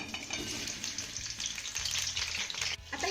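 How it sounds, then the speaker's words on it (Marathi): Continuous sizzling of bitter gourd pieces frying in hot oil, close and fairly loud, with occasional stirring and a short dip before it resumes. "आता ह्या तेलामध्ये ना आपल्याला कारल्याच्या फोडी घालायच्या."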